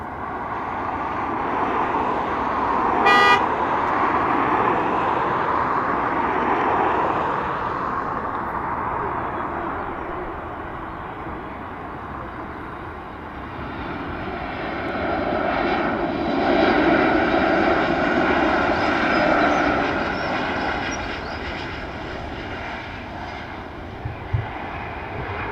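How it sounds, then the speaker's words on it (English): A Ryanair airliner lands at Dublin Airport, its jet engines roaring loudly and steadily, swelling again near the end as the roar changes on rollout, heard from nearby without talking. "example of a butter landing from the Ryanair"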